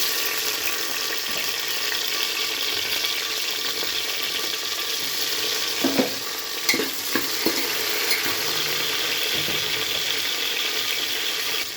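Onion and tomato frying in a pan, a steady sizzle running throughout, with a few scraping stirs near the middle.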